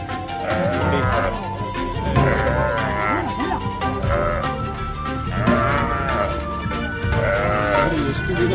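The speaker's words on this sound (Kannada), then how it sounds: "ಹಸು ಎಷ್ಟು ಒತ್ತಾಡ್ತಾ ಇದೆ ನಿಜವಾಗ್ಲೂ." A cow trapped in a drainage channel bellows and calls repeatedly in distress, loud and close, mixed with scuffling and people talking throughout.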